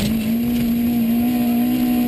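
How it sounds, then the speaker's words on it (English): A Toyota Starlet two-wheel-drive rally car on a rough gravel stage at Rally Hawkes Bay holds a loud, steady high-pitched engine rev, close and sustained with no voices. "listen to this little Starlet rev"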